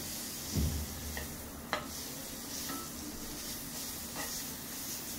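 Butter on a hot dosa griddle gives a steady soft sizzle, with a clunk early on and a sharp tap near the middle.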